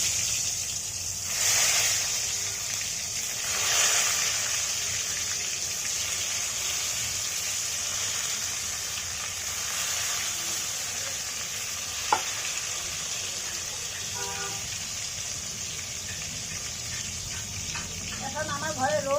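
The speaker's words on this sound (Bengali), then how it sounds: "তেল গরম হয়ে গেছে, এখন বেগুনগুলো ভেজে নিব।" Eggplant slices frying in hot oil in a home kitchen, a steady broadband sizzle running throughout with a few clatters and brief bursts; voices speak intermittently over the cooking.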